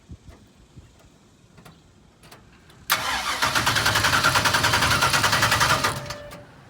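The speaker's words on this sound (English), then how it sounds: "we're going to see if it cranks" A drag-and-drive race car's starter cranks hard in a rapid, rhythmic churning for about three seconds after quiet clicks and taps, loud and close, but the engine never catches before the cranking stops.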